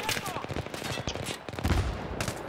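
Battlefield 3 sniper battle with gunfire cracking in quick irregular bursts and scattered single shots, fairly loud against a dense battlefield din, with a heavier thump or blast near the end.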